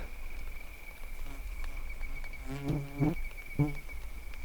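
Insects, identified as crickets, chirp at night in a cornfield, with a steady high whine and short pulsing calls that grow louder toward the middle, heard alone without talk.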